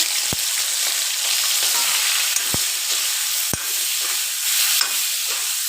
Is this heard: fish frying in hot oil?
yes